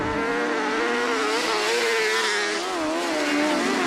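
Class 8 autograss racing cars roar loudly and continuously in a close pack, their engines rising and falling in pitch as they rev and accelerate, with no break in the noise.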